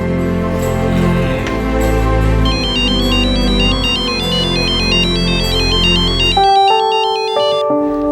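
A loud electronic phone ringtone plays a bright repeating melody, then switches to a sustained beeping tone before cutting off.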